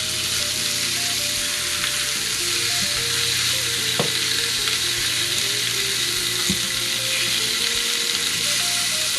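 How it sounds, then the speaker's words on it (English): Tempeh and bok choy sizzle steadily in a pan on the stove, a close, continuous frying hiss with a few faint stirring clicks and no talking. "Actually it's not frying, just cooking your tempeh."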